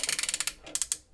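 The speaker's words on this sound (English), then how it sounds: "really nice ratchets on those arms" Ratchet joints on the arms of an oversized Transformers Siege Optimus Prime figure click sharply, a quick run of about eight close, even clicks, a pause, then three more.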